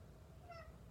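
A house cat that has just opened a door by himself and entered the room gives one short, faint meow in a quiet indoor space.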